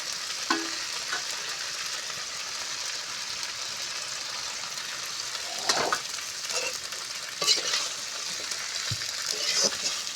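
Rohu fish curry with Malabar spinach simmers in a pan after a little water is added. A soft, continuous sizzle runs throughout, broken by occasional stirring scrapes and light clinks.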